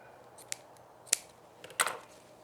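Scissors snip through 1.5 inch ribbon at an angle in three short, crisp cuts spaced apart, close and fairly quiet against a still background.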